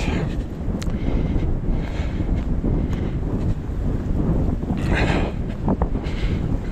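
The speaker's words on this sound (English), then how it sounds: "As you can see, it's windy, it's chilly today." Wind buffeting a microphone on a chilly outdoor walk, a loud, continuous low roar and rumble that swells and eases throughout, with no clear talk.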